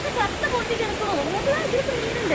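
River water flows steadily through a diverted channel at a fish farm, a continuous broadband rushing and gurgling close by, loud and unbroken throughout.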